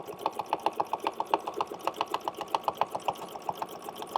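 A sewing machine stitches a circle counterclockwise, running close and steady with a quick, even rhythmic chatter of needle strokes that goes on without pause.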